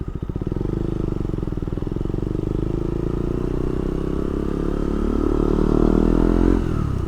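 Motorcycle rolling slowly at about 20 km/h, a close, steady low engine thrum with pulsing exhaust that rises and swells slightly toward the end before easing off.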